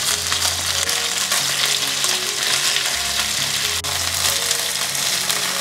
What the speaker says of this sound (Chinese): 把这鸡排呢放下来煎，记得要先煎一下皮